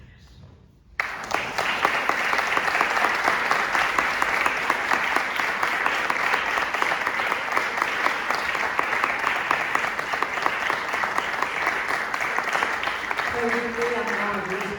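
Sustained audience applause following a talk at the 26th APE symposium, starting abruptly after a second of near silence and staying dense and steady for the rest of the clip, with a voice emerging faintly near the end.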